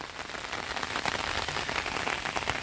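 Steady rain falls on a waterlogged garden in Brazil's Northeast, close and fairly loud, a continuous crackling patter of drops without any talking.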